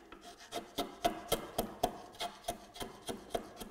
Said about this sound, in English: gripping your chisel, and short stabbing movements